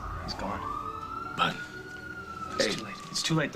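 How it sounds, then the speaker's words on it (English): An ambulance siren holds one steady wailing tone throughout, moderately loud, while someone talks urgently over it. "That's the ambulance."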